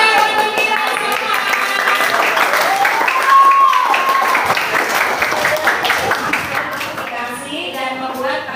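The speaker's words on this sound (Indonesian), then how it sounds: "Tepuk tangan untuk kita semua." Seventh-grade students applaud in a school classroom, a moderately loud patter of clapping lasting several seconds, mixed with voices and a sustained tone.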